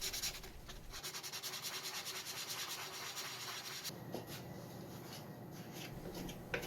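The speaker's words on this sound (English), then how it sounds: "do the final finishing and shaping with a sanding sponge." Steady, rhythmic strokes of a sanding sponge rasp against a wooden boat model hull at close range, a continuous rubbing scrape that shifts tone partway through, with no talking.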